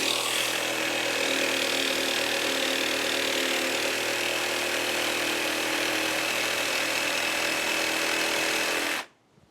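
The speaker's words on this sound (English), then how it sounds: "I just need to clean the burrs off the edge and cut the other pieces" A power tool grinds and cuts steel pieces for a fireplace surround in a steady, loud, high-pitched whine that runs unbroken for about nine seconds, then cuts off abruptly and spins down.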